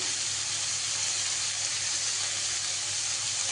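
Eggplant frying in a pan gives off a continuous, loud, even hiss of sizzling oil that holds steady without breaks and has no voices over it.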